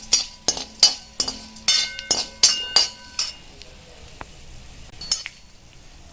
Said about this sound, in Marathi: मित्रांनो आपल्याला हे छान प्रकारे लालसर भाजून घ्यायचं आहे